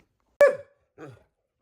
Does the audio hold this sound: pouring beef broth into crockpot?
no